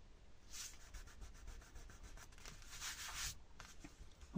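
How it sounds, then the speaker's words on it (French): An eraser rubs pencil marks off paper on a pop-up card craft, giving a faint, close, continuous scrubbing in quick back-and-forth strokes. "On va gommer."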